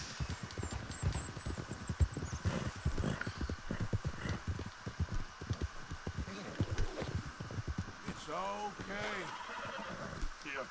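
Video game horse hooves clip-clop in a rapid rhythmic run, followed by a loud whinny near the end, while someone talks over the action.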